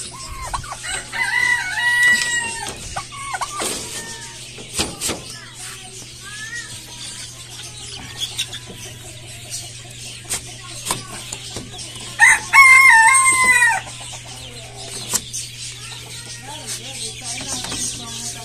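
Silkie chickens cluck from a backyard coop, with a rooster crowing in short calls throughout, close and moderately loud over a steady background hum.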